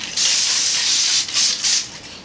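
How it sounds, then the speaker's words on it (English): A close, loud hiss of facial setting spray mist, one long burst followed by two quick short spritzes. "It's kind of like taking a spray bottle and just spraying your face with it."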